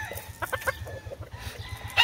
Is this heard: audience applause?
no